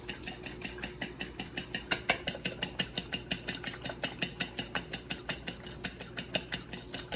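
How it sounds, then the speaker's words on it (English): Eggs are whisked back and forth for matzo balls, giving a brisk, even rhythm of clicking strokes at about four per second. The strokes repeat steadily and sound close, with no speech. "Whisking is going back and forth."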